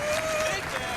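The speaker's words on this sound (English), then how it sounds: "A little standing ovation from the crowd here." A live speedrunning-event crowd applauds in a standing ovation for Mega Man X runners: steady dense clapping and cheering throughout, with a sustained tone and a voice faintly over it.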